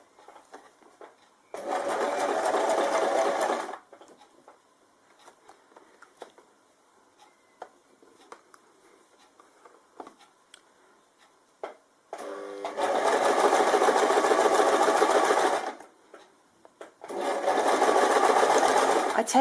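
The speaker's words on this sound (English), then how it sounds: "then we can start to sew on through" A sewing machine stitches bias tape binding in two loud sustained runs, one short burst early and a longer run later, separated by quiet handling and small clicks.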